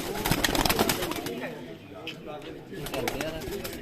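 A pigeon calls close by amid rustling, with people talking over it in places.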